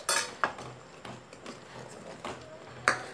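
A spoon clinks and scrapes against a pan while paneer potato gravy is stirred, with a few sharp metallic taps amid softer scraping, close by and moderately loud.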